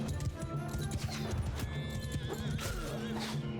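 Cavalry horses in Mount & Blade II: Bannerlord whinny and neigh over clip-clopping hooves amid battle noise.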